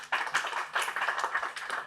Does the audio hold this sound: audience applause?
yes